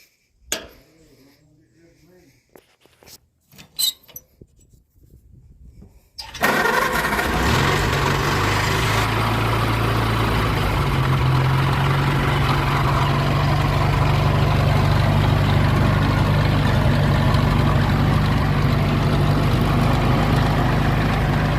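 A small Cub tractor engine cranks with a few clicks and sputters, then catches and settles into a steady, loud, rumbling idle that runs for the remaining fifteen seconds.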